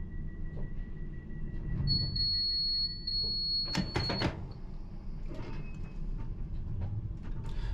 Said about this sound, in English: So that alarm you heard just go off, that's called an OPO alarm.